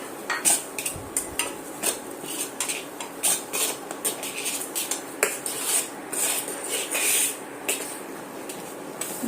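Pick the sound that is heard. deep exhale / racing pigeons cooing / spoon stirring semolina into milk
spoon stirring semolina into milk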